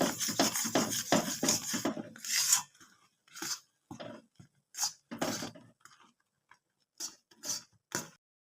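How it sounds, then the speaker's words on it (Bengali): Puffed rice powder stirred in a pan, heard as dense scraping and rubbing at first, then sparse short scrapes and taps with quiet gaps, close and fairly faint. "মুড়ির গুঁড়োটা দেওয়ার সঙ্গে সঙ্গে নাড়াচাড়া করতে হবে।"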